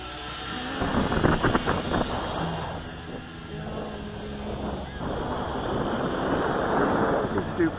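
Steady gusting wind of around 20 mph buffets the microphone outdoors during a Syma X8C quadcopter flight test carrying a payload, a continuous broadband rumble that swells and eases throughout.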